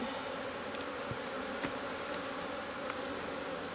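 Honey bees drone in a steady, dense buzz around an Apimaye hive during a colony split, with a few faint clicks and knocks from handling the hive; no talking.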